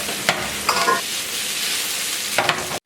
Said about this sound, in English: Then you add your shrimp in there, and then be all ready to go.